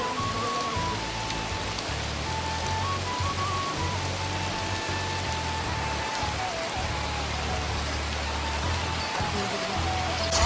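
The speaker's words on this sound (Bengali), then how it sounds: "প্রচণ্ড বৃষ্টি হচ্ছে" Heavy rain pours steadily on a house in the middle of a village field, a dense, loud, unbroken hiss of drops on surfaces with a faint tonal whine running through it.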